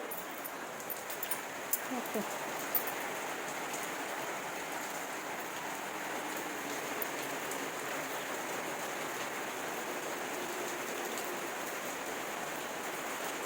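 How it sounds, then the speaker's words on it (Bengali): Rain falling steadily outside on a house courtyard with a holy basil platform, a soft, even wash of drops heard at a distance, continuous and unbroken throughout. "দেখো কি সুন্দর বৃষ্টি পড়ছে"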